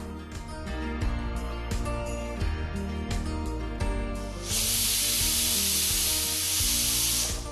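Pressure cooker on a medium-low flame cooking mutton pieces, first with clattering, rumbling cooking noise, then a loud, steady broadband hiss of escaping steam that runs unbroken to the end.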